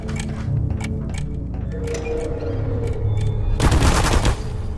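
Automated turrets in the game Portal fire rapid bursts, a dense chattering clatter that builds to a loud burst near the end, over game background sounds with no talk.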